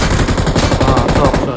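Loud, continuous rapid-fire gunshots crackle from a video game firefight, a dense machine-gun-like stream of close, heavy bursts with no pause.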